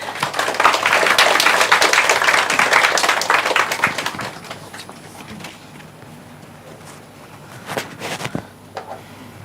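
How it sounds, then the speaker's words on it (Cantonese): Audience applause welcoming a lecturer to a public talk on Buddhist esoteric thought, a dense burst of clapping that fades after about four seconds, then scattered faint claps and taps in a quiet hall. "我哋就以熱烈嘅掌聲歡迎麥國豪老師"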